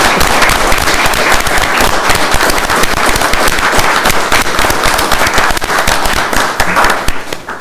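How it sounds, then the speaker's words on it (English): A standing audience at a Los Osos community services district presentation gives loud, sustained applause for a man named Phil, dense clapping filling the whole stretch before tapering slightly at the end. "please stand up and give Phil a round of applause"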